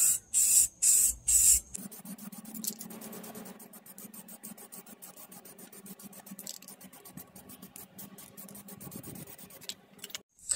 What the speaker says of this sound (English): with the first coat of the primer here, you want to make sure you get a light layer